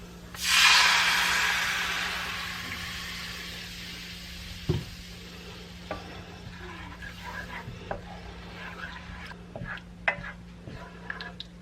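A cup of milk poured into a pan of peppery frying gravy gives a loud burst of hissing sizzle that fades over a few seconds, followed by light clicks and stirring taps.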